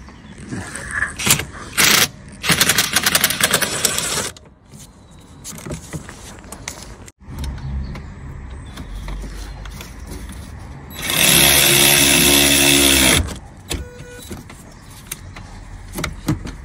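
Power gun spinning bolts on a Peugeot 107 during clutch replacement, two loud buzzing bursts of a few seconds each amid clanks and handling noises in a workshop.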